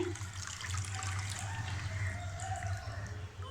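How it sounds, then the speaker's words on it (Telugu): Foxtail millet is rinsed by hand in a vessel of water before soaking for idli. A steady, close sloshing and splashing continues throughout, with no voices. "ఈ విధంగా కడుక్కోవాలి రాళ్ళు అనేవి లేవు ఇలా శుభ్రంగా కడుక్కున్నాం కదా"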